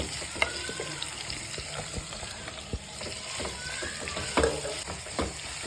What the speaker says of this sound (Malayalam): കടായി ചൂടായിട്ടുണ്ട് അതിൻ്റെ അകത്തോട്ട് നമുക്ക് മൂന്ന് ഇടത്തരം സബോള അരിഞ്ഞിട്ട് കൊടുക്കാം